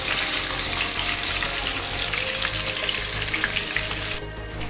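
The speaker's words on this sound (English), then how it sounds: "So remember to fry the mutton." Mutton frying in a pan for Sindhi-style charsi karahi, a loud continuous close sizzle with bubbling hiss throughout, easing slightly at the end, no voices.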